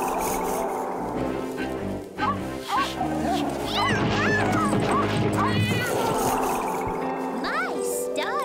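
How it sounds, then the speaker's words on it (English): Animated cat in a children's vampire cartoon, giving short rising meows and yowls over a busy musical score, with sound effects and voices around it. "Please control that cat of yours."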